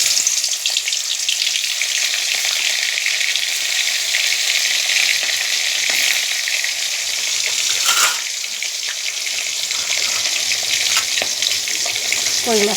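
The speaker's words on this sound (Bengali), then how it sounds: "এই যে কই মাছটা দিয়ে দিচ্ছি" Koi fish sizzling in hot oil in a pan, a loud continuous hiss of frying up close, with brief stirring or turning noises breaking through now and then.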